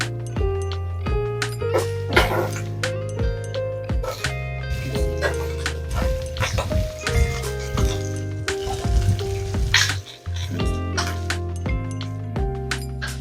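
Andouille sausage sizzles steadily as it browns in a pan, with frequent clinks and scrapes of a utensil stirring and turning the pieces, close and fairly loud throughout.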